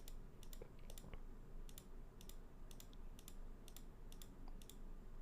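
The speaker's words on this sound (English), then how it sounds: "this has a different typing feel and sound" A Tofu 2.0 mechanical keyboard is typed on in quick, uneven bursts of crisp clacks, close-up over a low background hum, with no voices.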